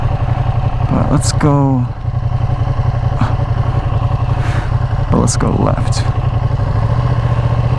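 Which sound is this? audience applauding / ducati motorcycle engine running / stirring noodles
ducati motorcycle engine running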